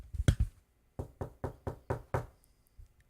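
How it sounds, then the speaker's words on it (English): Knocking on a door, loud and close: a quick cluster of three raps, a pause, then five evenly spaced knocks, with a faint tap afterward and no talking. "Knocking on the door."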